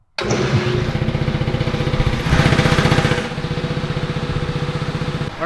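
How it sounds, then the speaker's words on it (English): A small air compressor in a garage, back running after a blown fuse was replaced, starts up with a pulsing, chugging motor rhythm that swells briefly louder before settling into a steady close thumping drone. "Air compressor's back up and running."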